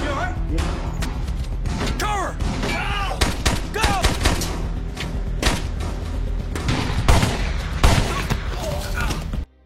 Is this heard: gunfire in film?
yes